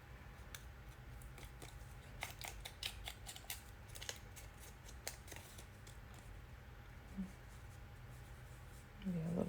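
Scissors snip closely around a decorated journaling card in fussy cutting, a run of quiet, irregular crisp clicks over faint background noise.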